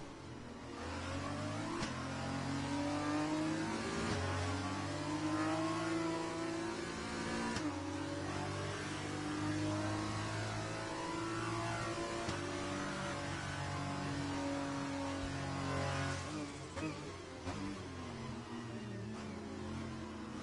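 F2 race car engines from a racing video game set in Azerbaijan drone loudly and continuously, their pitch rising and falling with revs as the cars race along, with no talk over them.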